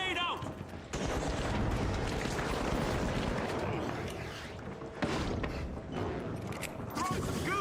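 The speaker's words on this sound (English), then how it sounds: "Frag grenade out." A frag grenade blast in the arena shooter The Finals lands amid a dense, continuous roar of gunfire and destruction, with sharp bursts near the start and middle and faint voices underneath.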